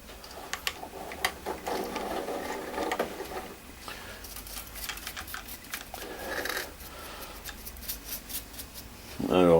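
A GMD 400 metal lathe cutting a thread, with faint irregular scraping and ticking of the tool on the workpiece and a soft machine hum, while a person talks over it.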